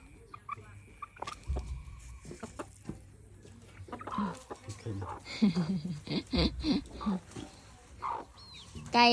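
Domestic backyard chickens clucking in short, uneven bursts at close range, with people talking over and between the calls.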